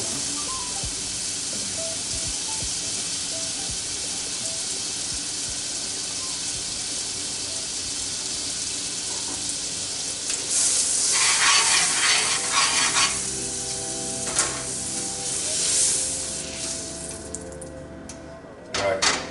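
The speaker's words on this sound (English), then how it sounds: "We're gonna hit that with about 1 tablespoon of butter." Butter and olive oil sizzle in a pan while cooking Tuna Marsala, a steady frying hiss that flares into louder crackling and spattering bursts partway through, with no talking.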